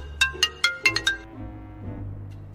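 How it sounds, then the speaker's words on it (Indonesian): A mobile phone ringtone chimes five quick, bright notes up close, followed by a softer, fading musical tail, with no talking. "HP lu bunyi"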